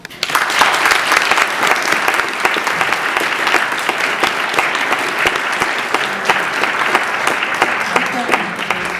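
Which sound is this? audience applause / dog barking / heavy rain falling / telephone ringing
audience applause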